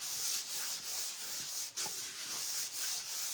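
Steady abrasive rubbing of sandpaper across wood for a craft project, a continuous close scratchy hiss with rhythmic strokes and a brief pause midway, no talking.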